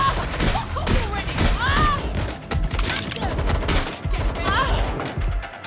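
Rapid gunfire crackles in the video game Watch Dogs: Legion, with repeated sharp bursts and ricochet whines in a close firefight while a voice speaks briefly over it.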